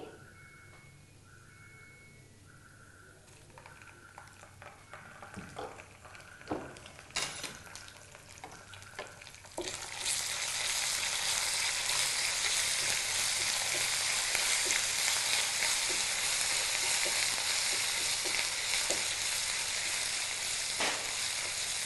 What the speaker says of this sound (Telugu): ఇవి ఫ్రై అవుతున్నప్పుడు ఇందులో మనం అల్లం వెల్లుల్లి పేస్ట్ వేసుకోవాలి